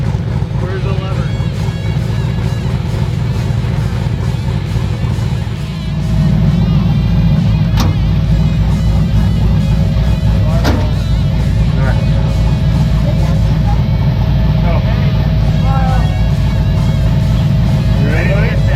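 A 1969 Camaro V8 engine idles and rumbles steadily up close on its first drive, a continuous low drone throughout while people talk over it.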